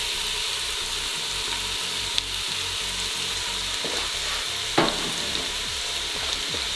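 Carrot, garlic and bacon sautéing in a pot over medium heat, a steady close sizzle with a few soft stirring clinks, no voices.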